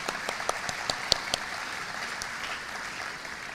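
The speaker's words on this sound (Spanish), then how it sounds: "Aplausos, por favor." A few people clap sparsely for a university student at the opening session of a class. The scattered, fairly faint claps are crisp at first and then thin out into quiet room tone.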